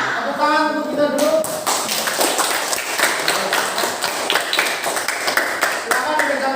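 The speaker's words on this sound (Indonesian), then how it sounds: "Tepuk tangan untuk kita dulu." A classroom of children clapping together, dense and steady, rising from a start about a second in and continuing loudly for several seconds, with a brief voice at the beginning.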